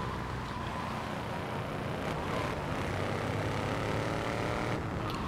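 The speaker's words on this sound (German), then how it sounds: "Da ist jetzt ein Flugzeug." A light aircraft flies overhead in the video game GTA 3, a steady broadband engine drone that holds throughout, mixed with road-traffic-like rumble and no talk.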